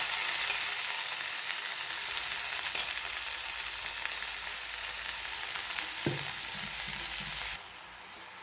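Chopped spring onion greens fry in hot oil with garlic, a continuous crackling sizzle broken by a few stirring clunks before the sound drops off abruptly near the end.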